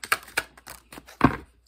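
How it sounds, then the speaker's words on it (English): Tarot cards are shuffled in quick, light clicking flicks, with a few rapid taps followed by a louder riffle near the end, close and brief. "I can shuffle correctly."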